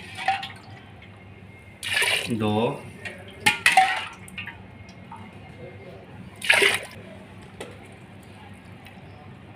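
Water splashes and pours into a cooking pot for moong dal with chopped onion, gurgling in a couple of bursts with light clinks of metal, while someone speaks briefly over it.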